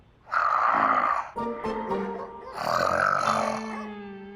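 Loud snoring in two long, rasping breaths, each a rough, harmonic-rich rumble separated by a quieter, wheezing inhale.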